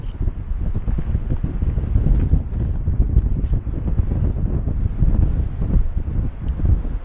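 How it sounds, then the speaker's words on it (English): Strong wind roars through a canyon during a climb, a loud, steady buffeting rush that batters the microphone without letup and drowns out everything else. "the wind is really blowing"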